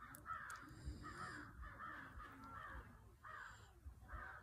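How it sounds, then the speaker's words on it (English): Crows caw loudly and repeatedly outdoors, a run of harsh calls with short pauses between them and no talk. "Those birds are loud as hell. You hear them?"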